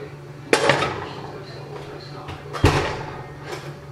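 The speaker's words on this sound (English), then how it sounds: "So now I'll take it out of the oven." A chicken pot pie baking dish with browned biscuit topping is pulled from a home kitchen oven, marked by two sharp clanks of the dish and oven rack about two seconds apart, with faint kitchen rustle between.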